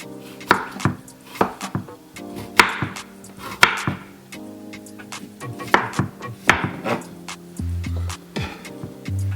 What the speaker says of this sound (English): get a nice lovely fat chunk, a piece of a ginger, and simply remove the skin